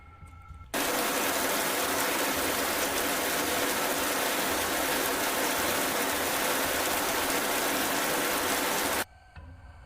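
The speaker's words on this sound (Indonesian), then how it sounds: "Hujan yang turun dari sore tadi belum juga berhenti." Steady, heavy rain falls at night in a story sound effect: a dense, continuous hiss that starts abruptly, holds evenly for about eight seconds and then cuts off, with no voices over it.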